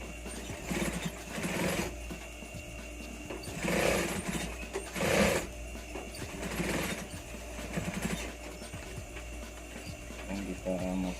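A sewing machine locks the stitching on a hidden button placket of a Shanghai-collar knit shirt, running in several short bursts of rhythmic mechanical clatter at moderate loudness, with no talk.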